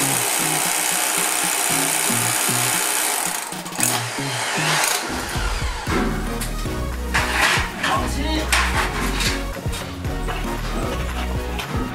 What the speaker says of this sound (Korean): 벽에 20mm 앙카가 들어갈 구멍을 내주므로 고정 작업을 진행해 줍니다